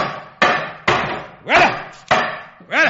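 Nails hammered into a photograph laid flat on a table, five sharp, loud blows at a steady pace, each ringing briefly before the next, with no talk.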